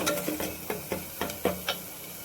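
Coconut and spice paste roasting in a pan for mutton curry, a soft sizzle broken by about seven light, regular scrapes of a spoon against the pan, close up and with no talk.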